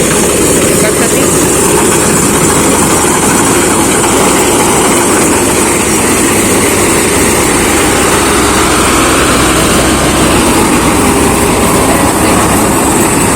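A small combine harvester engine drones continuously and loudly nearby while cutting rice, a steady rattling mechanical hum with a high whine, no pauses.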